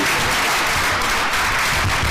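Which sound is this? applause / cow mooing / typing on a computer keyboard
applause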